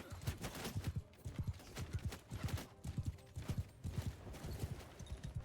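Mounted horse gunners gallop across a battlefield in Mount & Blade II: Bannerlord, rapid rhythmic hoofbeats drumming in quick repeated bursts, fairly faint and distant, with any gunfire not clearly standing out.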